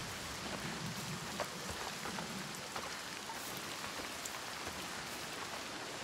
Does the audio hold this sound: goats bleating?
no